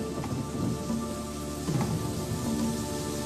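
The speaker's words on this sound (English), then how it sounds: "Shifting weather patterns brought torrential rain to the area" Torrential rain pours in a dense, steady hiss of heavy drops on surfaces, with a low thundery rumble swelling underneath.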